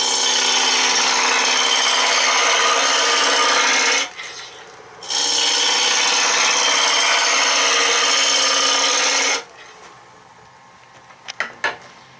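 A wood spindle blank spins on a lathe at about 1,000 RPM while a tool cuts it, giving a loud, steady rasping whir that stops for a second, resumes for several seconds, then ends, followed by quiet clicks.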